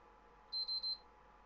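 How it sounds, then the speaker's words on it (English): A PS3 console's internal beeper gives three quick, high, even electronic beeps in a row, faint and alone over quiet room hum. "I'm going to take the beeper out of the PS3, by the way, because it's really friggin' annoying."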